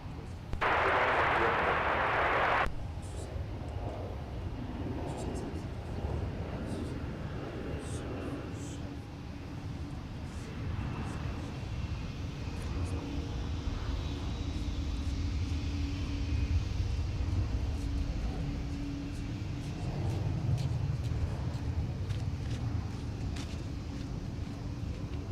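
A Delta airliner landing on runway 12 right at Minneapolis–Saint Paul airport, a distant, steady low rumble and roar rolling on for the whole stretch, with radio voices talking over it.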